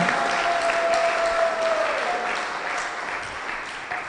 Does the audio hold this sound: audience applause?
yes